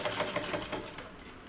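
A sewing machine runs steadily while stitching two blouse edges together in a straight seam, a continuous fast mechanical whir with a light rhythmic clatter, close and moderately loud.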